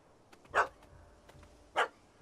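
A puppy in The Witcher 3 gives two sharp, separate barks about a second apart, moderately close, with a quiet background in between and faint small sounds.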